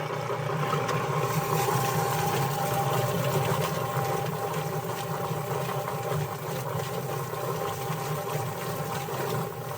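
A chicken plucker machine runs with a steady, loud mechanical churn and rushing water spray, holding continuously with no pauses.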